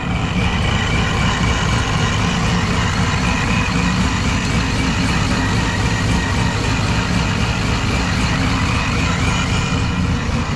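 A supercharged 2005 Corvette with an aftermarket cam idles loud and close, a dense, steady low rumble with a slight lope running unbroken throughout.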